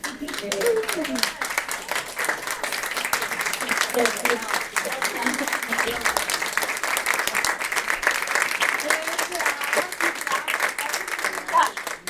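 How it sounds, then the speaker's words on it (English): A standing audience gives a sustained round of applause lasting the full twelve seconds, with steady dense clapping and scattered voices and cheers mixed in at a moderate, even level. "I want you to stand up and give yourselves a round of applause for getting here."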